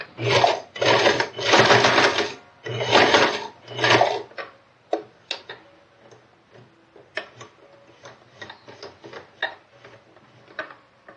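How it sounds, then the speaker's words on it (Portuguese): Domestic sewing machine stitching a towel, with bursts of fast rhythmic stitching for the first four seconds, then slower, scattered clicks and ticks from the handwheel being turned by hand to advance the needle through the fabric. "você gira com o volante da máquina na mão e mantém a agulha enfiada dentro do tecido e gira ele para continuar a costurar"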